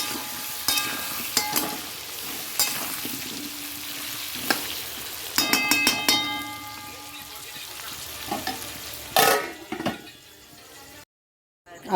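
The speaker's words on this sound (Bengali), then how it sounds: "এটাকে চাপা দিয়ে দিয়ে ভাজবো আলু" Potato pieces with salt and turmeric fry in a pan while being pressed down and stirred. A steady sizzle runs under repeated sharp scrapes and clinks of the utensil, and the sound cuts to silence near the end.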